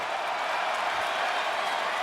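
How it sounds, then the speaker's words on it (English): Large basketball arena crowd at a Miami Heat versus Orlando Magic NBA Cup game, a steady, dense roar of cheering and applause filling the space without pause. "Massive crowd"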